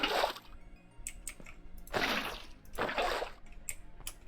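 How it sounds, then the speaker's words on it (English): Minecraft flowing water gushes in soft repeated surges with faint drips and trickles between them, quiet and close, with no one talking. "We're not always hearing that really loud flowing water."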